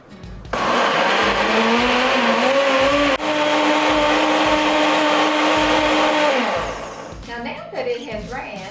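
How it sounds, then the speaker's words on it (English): Countertop blender crushing chopped coconut with liquid for coconut milk, a loud close motor whine that holds steady for several seconds with a brief dip, then winds down as a voice speaks over the fading hum. "I'm going to place that lid on the blender."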